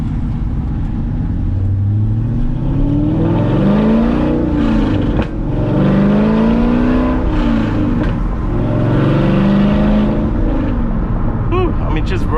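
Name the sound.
C6 Corvette accelerating through the gears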